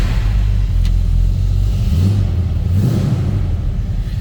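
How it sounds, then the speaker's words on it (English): A 302 V8 in a 1956 Ford F100 Shortbox Stepside with a Tremec 5-speed rumbles at a fast cold-start idle and rises briefly with a little throttle. It sounds close, deep and loud, with no voices. "I think we should fire this up and let you hear that 302 Ford power"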